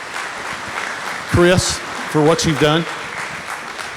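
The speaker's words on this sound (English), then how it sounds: "I think we deserve a big round of applause to Mike" An audience at a special city council meeting applauds Mike and Chris, a soft spatter of clapping in the background while someone speaks over it in two short phrases.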